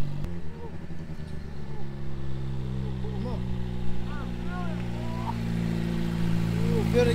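A dirt bike engine idles, then gets a gentle throttle blip and builds in pitch, heard close by beneath people talking over it.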